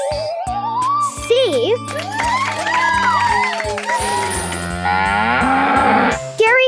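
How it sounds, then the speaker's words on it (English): A loud, drawn-out cow moo rises and falls over bright jingling music, with a voice and other voices around it. "Scary cow."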